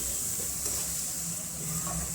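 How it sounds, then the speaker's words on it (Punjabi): Steady sizzling of spices frying in hot oil on a high gas flame, a continuous hiss with faint stirring scrapes, close and fairly quiet, no talking. "ਹੁਣ ਆਪਾਂ ਗੈਸ ਨੂੰ ਹਾਈ ਫਲੇਮ ਤੇ ਮਸਾਲਿਆਂ ਨੂੰ ਭੁੰਨ ਲਵਾਂਗੇ"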